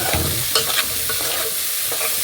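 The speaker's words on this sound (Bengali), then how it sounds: "এখন এগুলারে আমি একটু ভালো করে মিক্স করে নিতেছি" Boiled chickpeas and spices are stirred in a sizzling frying pan, brief spatula scrapes over a constant close fry hiss, with no voices.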